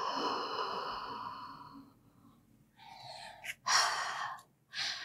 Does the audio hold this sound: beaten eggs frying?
no